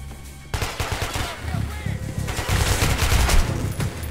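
Rapid bursts of gunfire from the video game Metro: Last Light, a dense run of loud shots over a low rumble, starting abruptly after a brief quiet moment.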